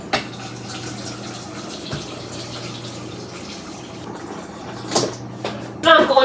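Filtered water pours into a pot at home, a soft continuous fill with a low hum underneath and a couple of sharper knocks near the end.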